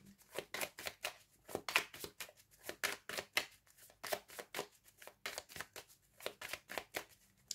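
Tarot cards being shuffled by hand in a quiet room, a steady run of quick papery riffles and soft slaps repeating in bursts, close and clear with no talking.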